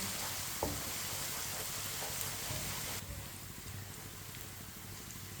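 Steady crackling sizzle of garlic frying in a pan, with a few scraping stirs; the sizzle drops slightly partway through and continues.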